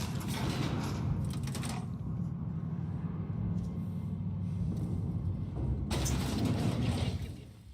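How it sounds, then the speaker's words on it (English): Elevator descending in a space detective video game, a steady low mechanical rumble and hum with creaking and grinding, brighter clanks near the start and again near the end as the car moves. "this one takes you down an elevator"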